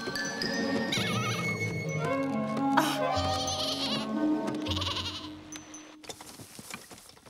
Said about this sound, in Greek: Η καημένη κατσικούλα κόλλησε. στην κακή γέφυρα.